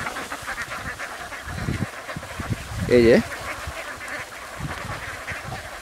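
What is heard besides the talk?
ducks quacking while feeding in a field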